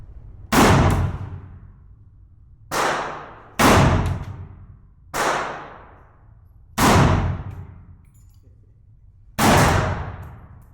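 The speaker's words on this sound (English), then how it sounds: "he's shooting the AR thing. Those 223." Six loud, evenly spaced single shots from an AR rifle firing .223 rounds outdoors, each a sharp crack with a decaying ring, separated by pauses of one to three seconds.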